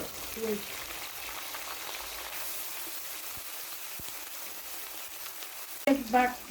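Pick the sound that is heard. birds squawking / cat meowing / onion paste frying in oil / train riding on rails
onion paste frying in oil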